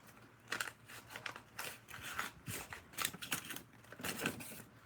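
Crisp, repeated snipping and crunching as a poorly sharpened folding knife without a detent is worked like scissors to cut something, a string of short close cuts with no talking.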